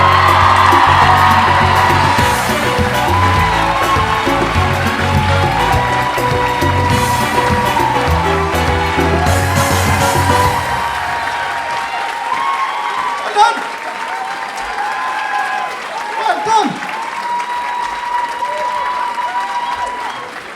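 A large crowd at a dance charity event applauds and cheers loudly, with whoops over music, then the clapping thins out while a voice speaks over the fading applause.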